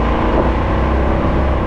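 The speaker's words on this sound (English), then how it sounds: "289 two barrel, it really picks up well." A 1964 Ford Galaxie 500 convertible with a 289 two-barrel V8 accelerating, its steady, loud engine drone filling the whole stretch with a low rumble and no break.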